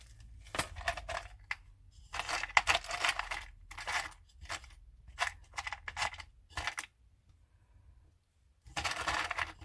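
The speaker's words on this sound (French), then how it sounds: "Je vais prendre mes petits trucs de ma petite boîte." Small sewing items clatter and jingle in bursts as someone rummages through a box, with quiet gaps between the rattling handfuls.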